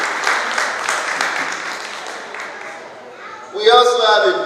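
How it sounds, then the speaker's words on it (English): Audience applause at a Yoruba Day cultural celebration in Melbourne, a rhythmic clapping crowd that fades out, followed by a voice over a loudspeaker. "Can we give him a round of applause, please?"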